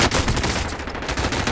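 Rapid bursts of automatic gunfire from a weapon in Call of Duty: Modern Warfare, a dense continuous fusillade at steady loudness with no talk over it.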